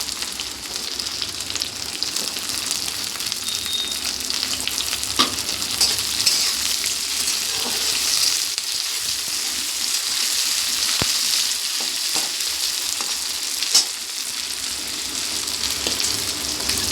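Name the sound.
capsicum and peas frying with broccoli in a pan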